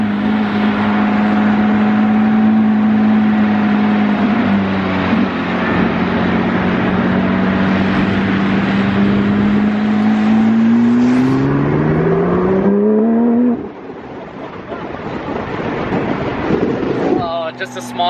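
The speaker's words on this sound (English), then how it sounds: "I have a GMG on my GT3 and it sounds really good." A Porsche GT3 sports car with an aftermarket GMG exhaust revs up steadily through the gears, the exhaust tone rising loud and close before dropping off, then building again.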